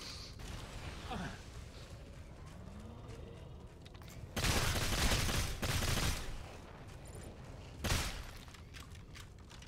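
Gunfire in the video game Evolve: loud bursts of shots around the middle and again near the end, over a steady game soundscape, with quiet players' voices talking.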